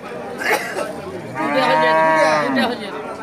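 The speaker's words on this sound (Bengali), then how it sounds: "অস্ট্রেলিয়ান জাতের গাভী" An Australian-breed dairy cow at a cattle market in Rajshahi moos twice: a short low call, then a long, loud, drawn-out moo with rich harmonics, with faint background noise between.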